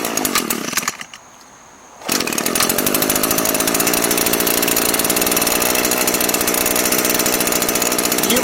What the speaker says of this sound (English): now I'm going to start the machine